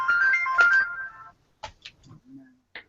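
A phone ringtone plays a melodic electronic tune for just over a second, loud and close, followed by a few short scattered sounds and a low hum after it stops.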